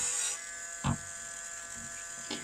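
A small motor whines steadily while a cane bowl is sanded smooth, with a few short louder scrapes as the abrasive bites into the surface.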